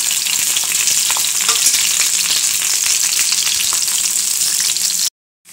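Onions fry in about three tablespoons of hot oil in a kadai, giving a loud, steady sizzle with light stirring scrapes that runs nearly the whole time before cutting off abruptly.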